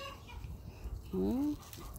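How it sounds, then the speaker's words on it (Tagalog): A backyard chicken clucks noisily outdoors, a single drawn-out squawking cluck rising over low background rustle and faint ambient noise. "Yung manok ko, ang ingay."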